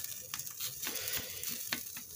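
Potatoes fry in hot oil for a prison-made breakfast sandwich, giving a soft, steady sizzle with small crackles and pops, faint and close.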